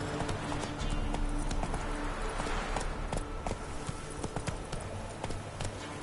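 Hooves of the horse Roach in The Witcher 3 pound steadily in a rapid, even gallop, loud and continuous over a wide bed of outdoor ambience.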